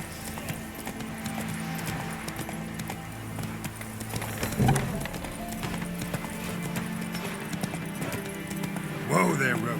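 Hoofbeats of the horse Roach from The Witcher 3 clip-clop steadily in a game scene, with a whinny near the end, while someone speaks over them.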